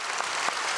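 A church congregation at early-morning prayer applauds to welcome visiting missionaries from Honduras, a dense, continuous wash of many hands clapping at moderate volume.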